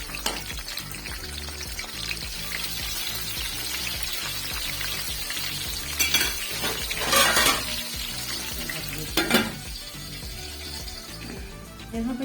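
Chopped tomatoes dropping into hot oil with well-browned onions, a steady close sizzle and crackle that flares louder twice as more pieces go in, with a few faint pan knocks and no voices.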